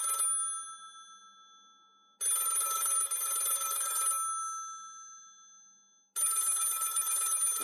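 A mobile phone ringing from inside a pocket, an electronic ringtone sounding in repeated bursts with silent gaps between them, fairly clear and alone without talk.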